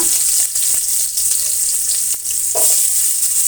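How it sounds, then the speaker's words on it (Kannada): Mustard seeds and sliced onion frying in oil in a pan, a steady loud sizzle with crackling pops and a brief burst of stirring noise near the end. "ಈಗ ನೋಡಿ ಈರುಳ್ಳಿನ ಹಾಕ್ತಾಯಿದ್ದೀನಿ ಮೊದಲು ಸ್ವಲ್ಪ ಸಾಸಿವೆ ಹಾಕೋಣ"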